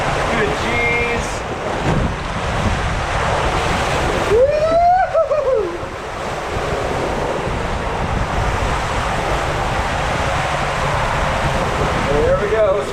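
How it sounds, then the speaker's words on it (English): Water slide raft splashing down at the end of the Riptide Race ride at Aquatica Orlando, a loud surge of rushing water and wind noise with a rider's voice whooping. "There we go, splashdown."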